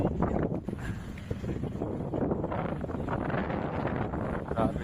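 Strong wind at a roadside view deck on the Gumaca bypass road buffets the microphone in a continuous, rough roar with gusty swells throughout; no clear speech.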